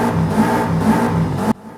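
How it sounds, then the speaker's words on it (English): A car engine in Forza Horizon 5 revs loudly and steadily with a pulsing drone, then cuts off abruptly near the end, with no talking. "let's go ahead and do a quick rev check though first of all"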